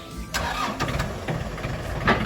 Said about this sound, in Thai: เครื่องนิ่มๆติดง่ายๆครับผม